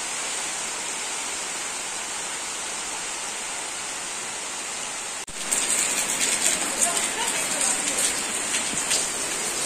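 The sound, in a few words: rain falling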